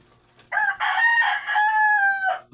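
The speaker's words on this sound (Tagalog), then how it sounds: "Ay yung mga talaok ng manok medyo maingay." A rooster crows one long, clear cock-a-doodle-doo nearby in a quiet yard, rising sharply and holding its strained note for about two seconds before breaking off.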